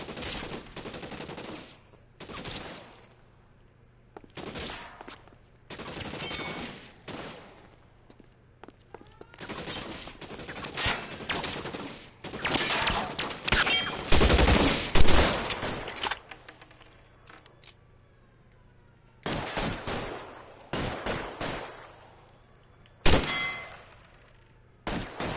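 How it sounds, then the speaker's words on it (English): Suppressing gunfire in the video game L.A. Noire: repeated bursts of shots in irregular clusters, loud and close, with brief quiet gaps between volleys. "Suppressing fire."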